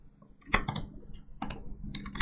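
Computer keyboard keys clack sharply in a few separate bursts as a Ctrl+V paste is typed, close and distinct against near silence.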